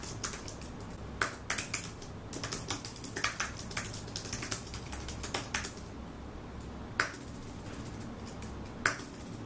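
Someone types on a computer keyboard while editing text in Microsoft Word on a Dasung Paperlike HD e-ink display, producing soft, irregular keystrokes at close range with a few sharper key taps standing out.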